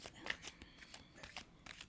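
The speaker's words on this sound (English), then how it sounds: "Give it a couple shuffle there." Playing cards are shuffled a couple of times on a table: quick, faint riffling bursts in a short run, heard alone at close range.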